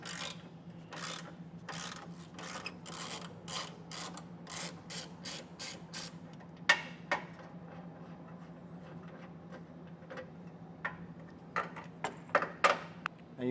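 Nuts being loosened on a bumper of a 2024 Ford with a ratchet, a rapid series of close clicking ratchet strokes followed by scattered metallic taps and clinks.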